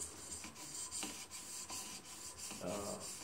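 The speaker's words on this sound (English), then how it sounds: "We're not really sharpening now, we're just slicking, prettying the edge up." Knife edge stroked across a fine abrasive stone on a TSPROF KO3 guided sharpener, being refined and polished at high grit: steady repeated rasping rubs in a quiet room, each pass a soft, close scraping sweep.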